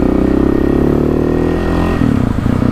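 A KTM motorcycle being ridden gives a loud, close engine drone with a rapid pulsing beat, holding steady before a brief change in revs near the end.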